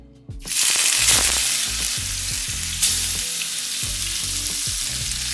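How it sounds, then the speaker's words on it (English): Chilean sea bass drops into hot oil in a pan over medium-high heat and bursts into a loud, close, continuous sizzle that crackles and spits steadily. "I'm going to add some oil. We have it on medium to high heat, and now we're going to add the fish."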